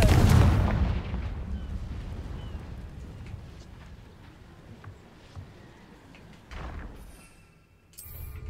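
A Confringo fire spell explodes in the Hogwarts Legacy video game, a heavy booming blast at the start fading into a low rumbling tail, followed by softer game ambience and a brief whoosh near the end.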